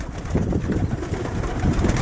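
Pigeons kept by a fancier coo during winter feeding, low throaty burbling close by that repeats in soft overlapping pulses.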